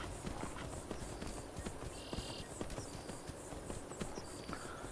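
Horse hooves clip-clop at a steady galloping rhythm in a video game, a continuous run of hoofbeats under faint ambient game sound.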